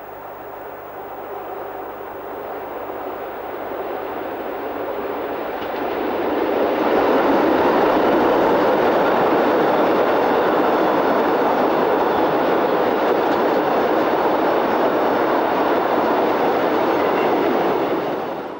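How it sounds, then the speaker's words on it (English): Class 1100 electric locomotive number 1107 hauling a mixed freight train south, a broad rushing rumble of rolling wagons that swells from moderate to loud and holds steady, with no voices. "this 1997 shot of long withdrawn class 1100 electric number 1107 heading a mixed freight south for Kifhoek Yard"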